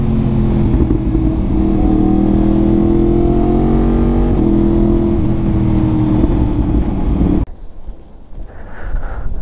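A Yamaha MT-10 motorcycle engine revs hard under throttle, loud and close with wind buffeting, rising in pitch for several seconds before the throttle cuts off abruptly near the end.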